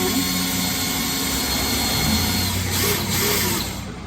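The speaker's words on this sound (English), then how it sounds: "I'm taking my time so that the drill bit stays straight." A steady, loud mechanical whine of a power drill running continuously, boring into scrap wood with a constant grinding drone throughout.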